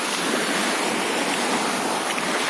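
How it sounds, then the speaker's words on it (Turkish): Grills being washed in salty seawater at the shore, a continuous broad rush of water and surf, steady and close with no distinct strokes, no voices. "Bakın tuzlu suda ızgara yıkıyorum arkadaşlar."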